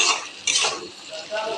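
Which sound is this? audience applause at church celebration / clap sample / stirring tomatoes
stirring tomatoes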